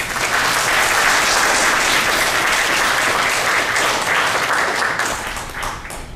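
Warm, dense audience applause at a lecture on the Korean way of tea, continuous and full for about six seconds as the lecturer is welcomed, tapering slightly at the end.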